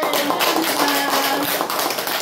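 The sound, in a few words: audience applause welcoming the author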